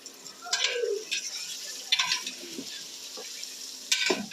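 Chicken with chili powder is stirred in a pot for chicken biryani, a few scattered scrapes and clinks over a faint quiet sizzle.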